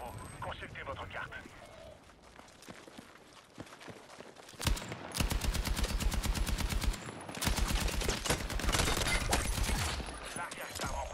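Gunfire erupts in the video game Battlefield 6 battle royale, long loud bursts of rapid automatic shots after a quieter stretch with a voice, fairly close and sustained.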